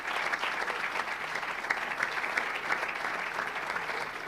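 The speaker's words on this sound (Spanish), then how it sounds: "Un aplauso muy fuerte para todos los que componen el CAI Zaragoza." Sustained dense applause from an audience at the Aragonese sports forum honoring CAI Zaragoza, steady and full throughout with no speech over it.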